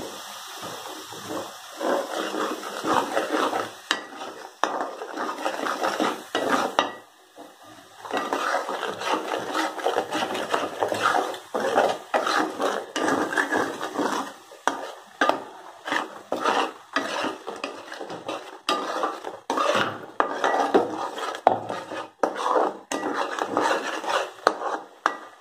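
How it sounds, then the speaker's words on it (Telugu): Spices and masala frying in hot oil for prawn curry, a continuous sizzle with a spoon scraping and stirring the pan steadily, close and fairly loud throughout. "ఆయిల్ హీట్ ఎక్కిన తర్వాత ఇలా మసాలా అంతటిని నీట్గా ఎర్రగా ఎగేంత వరకు"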